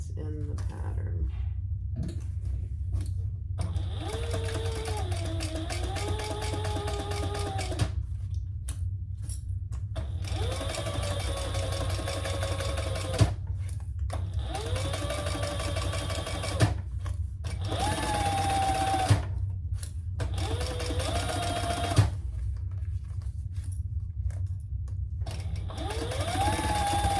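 Sewing machine stitching a seam while making a garment pattern, running in several bursts a few seconds long with short pauses between them, the motor's whine rising and falling, close and clear over a low steady hum.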